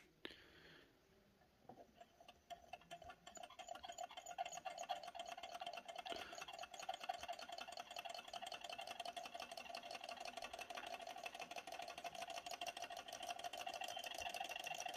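A small desktop Stirling engine runs with a fast, steady mechanical ticking and whir, quiet and close, settling into a constant rhythm after a brief soft start.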